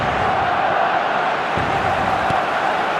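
Stadium crowd in the eFootball video game, a dense, steady roar of massed voices holding at constant loudness throughout, with no distinct cheers standing out.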